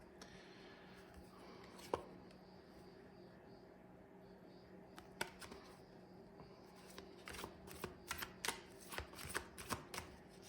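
Tarot cards are shuffled in a quiet room, starting as faint scattered riffles and building into a run of crisp, close card snaps near the end.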